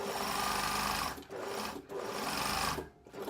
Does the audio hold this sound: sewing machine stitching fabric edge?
yes